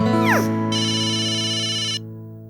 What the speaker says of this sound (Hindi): मेरे अंकल का फोन।